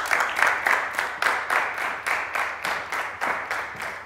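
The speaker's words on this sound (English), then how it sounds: "please, a round of applause for Dr." A studio audience at a TV health show applauds a guest doctor, producing a steady, evenly pulsing run of clapping with no voices over it.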